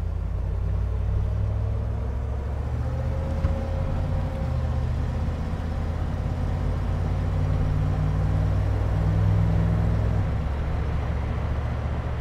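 A 1966 Ford F100 pickup truck drives and picks up speed, its engine a steady low rumble with road noise rising and shifting slightly as it accelerates, heard from inside the cab with no talking.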